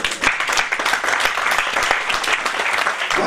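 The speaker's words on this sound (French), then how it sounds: "Applaudissez le Seigneur." A church congregation claps steadily throughout, a dense, even wash of applause from many hands filling the space.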